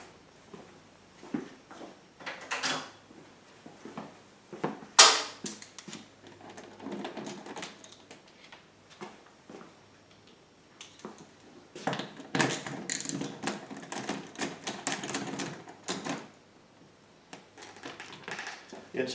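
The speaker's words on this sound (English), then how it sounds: "Use an 8mm socket to pull the 3 side cover bolts out." An 8mm socket ratchets out the side cover bolts on a GenMax GM9000iED generator, clusters of quick clicking turns and metallic taps with a sharp clank, close up, separated by quiet gaps.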